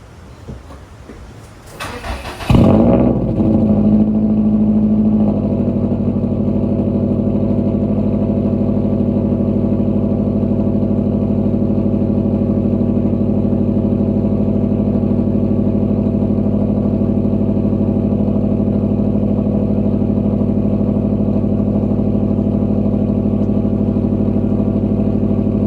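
A Subaru STI fitted with a front-mount intercooler and new headers cranks for a moment, catches, and settles into a loud, steady, rumbling idle that runs on unchanged, close to the car with no talk.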